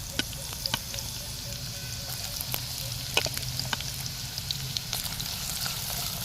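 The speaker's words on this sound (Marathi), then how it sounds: "आता आपण याला परतून घेऊया आपण त्यात कांदा ॲड करणार आहोत" Onion and bay leaf sauté in oil inside a clay pot, giving a steady close sizzle with light scraping clicks of stirring throughout, no talking.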